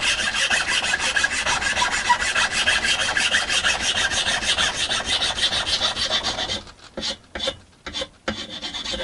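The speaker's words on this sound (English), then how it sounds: "I'm just going to use the other side of the file to smooth it off a bit." Flat file rasping over the wooden neck of a cheap electric guitar, rapid even back-and-forth strokes up close, ending in a few slower separate scrapes.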